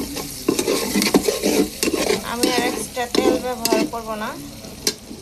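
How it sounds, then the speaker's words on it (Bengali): Onions frying in the oil left over from frying hilsa fish for a pointed gourd curry, with steady sizzling and repeated spatula scrapes and stirs in the pan while someone talks over it. "আমি এখন এই ভাজা তেলের ভিতরেই দিয়ে দিব অল্প"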